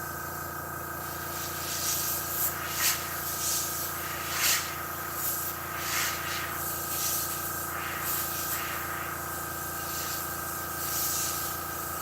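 Badger airbrush spraying thinned camouflage paint, a steady continuous hiss with small swells and bursts over a constant background hum, close and fairly quiet throughout.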